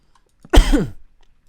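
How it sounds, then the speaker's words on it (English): A single short, throaty cough close to the microphone, standing alone against near silence. "Damn it. I coughed again."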